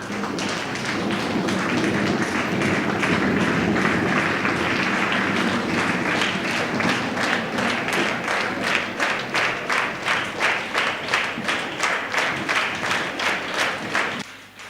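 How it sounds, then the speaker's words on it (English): A conference audience applauds to welcome arriving guests on the second day of an international conference, with a dense sustained round of clapping that thins into slower, distinct rhythmic claps before stopping. "Let's raise and welcome them with loud round of applause."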